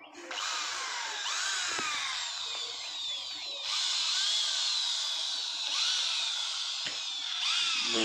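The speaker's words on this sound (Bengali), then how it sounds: "এখন ড্রিল মেশিন দিয়ে ড্রিল করবে লোহা মারার জন্য" A power drill bores holes in a building's door frame to take iron rods, its loud, close whine running in long bursts that rise and fall, with brief pauses and tool clatter between runs.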